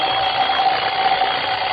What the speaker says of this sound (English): Coming awake, I heard the alarm we'd set go off.